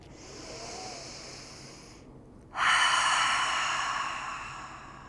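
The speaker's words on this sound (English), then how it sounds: "Cleansing breath." A single deep, forceful cleansing exhale during a gentle yoga class rushes out as a loud breathy hiss after a quiet room tone, fading slowly over a couple of seconds.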